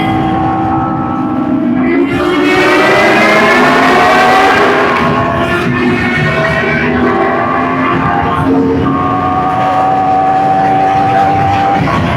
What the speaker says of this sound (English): The exhaust, if that is stock on that Brutale, is really nice.